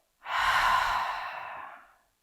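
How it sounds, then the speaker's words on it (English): A long, steady exhale through the mouth during a guided breathing exercise, a soft breathy rush that swells quickly and fades over about two seconds, close and alone. "hold it at the top for about 3 seconds, and then exhale through the mouth"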